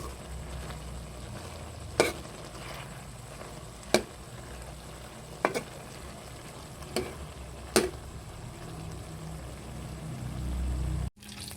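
Squid simmering in coconut milk is stirred in a pot, with a soft bubbling sizzle underneath and a handful of sharp utensil knocks against the pan at regular intervals.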